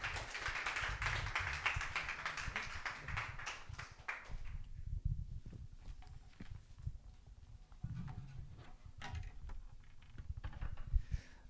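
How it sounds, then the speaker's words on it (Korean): A church congregation claps in welcome for a pastor arriving from Daejeon, a dense, steady patter of many hands close by, strongest at first and then thinning into scattered claps toward the end. "우리 힘차게 환영의 박수로 맞이합시다."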